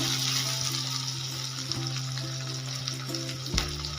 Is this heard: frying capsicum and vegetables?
yes